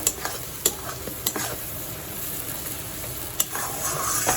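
Spice paste for butter chicken fries in a pan with a constant hiss, punctuated by a few distinct spoon scrapes and knocks as it is stirred, close up.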